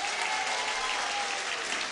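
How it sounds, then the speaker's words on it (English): Dense, steady applause from a crowd at a primary school event, sustained evenly throughout with no voices breaking through. "louder applause"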